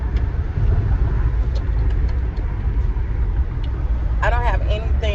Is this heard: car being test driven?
yes